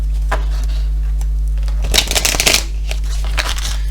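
Oracle triad cards are drawn and shuffled in one brief, close burst of papery riffling and slapping over a low, steady hum.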